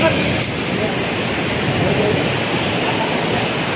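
Large ocean waves wash up on a beach in a steady, loud roar of surf, continuous broadband rush with no breaks throughout.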